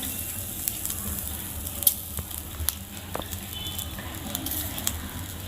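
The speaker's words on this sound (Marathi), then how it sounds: "आता आपण ओला नारळ भाजून घेऊया" Freshly grated coconut roasts in a pan for misal, with a soft continuous sizzle and scattered light crackles and pops at close range under a low background hum.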